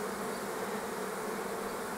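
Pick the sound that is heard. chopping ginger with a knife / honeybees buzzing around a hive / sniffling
honeybees buzzing around a hive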